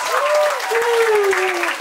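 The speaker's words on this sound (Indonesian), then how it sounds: "Tepuk tangan buat kalian orang jos" Children clapping together as a group at an English and character camp in Depok, a steady sustained patter of applause with an adult voice speaking over it.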